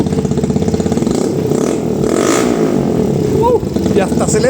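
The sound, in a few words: chopper motorcycle engine revving with new exhaust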